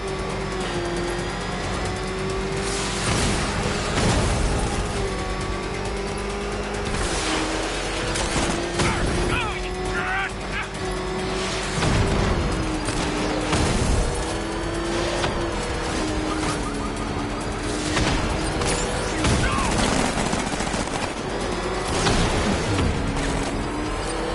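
Gunfire strikes the player in Batman Arkham Knight, loud bursts of shots cracking repeatedly over a droning vehicle engine and busy game noise throughout.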